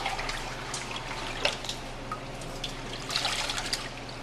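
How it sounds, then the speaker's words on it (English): Leafy greens sloshed around in a bowl of water for washing, giving soft splashing and trickling with a few light drips, close and fairly quiet, with no talking. "put whatever leafy green you're using in the water, and then lift it out."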